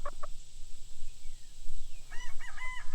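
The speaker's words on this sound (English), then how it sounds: "I like that chicken. It's nervous." A nervous chicken calls near a farm pen, with a couple of short clucks at the start and a run of higher squawking cackles toward the end over steady background noise.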